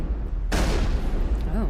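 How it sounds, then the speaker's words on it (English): Explosions erupt on Virmire in Mass Effect: a sudden loud blast gives way to a sustained, rumbling roar of gunfire and detonations, with a brief wavering tone near the end. "Oh, got a lot of explosions."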